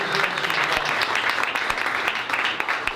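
A roomful of people applauds at a press conference introducing the Bloomington Thunder hockey team to the USHL, a dense, steady clatter of clapping lasting the whole stretch with a few sharper claps standing out.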